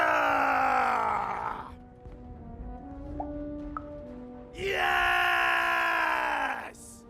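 Children let out two long, loud battle-cry screams, one at the start and one near the end, with a quieter murmuring stretch in between.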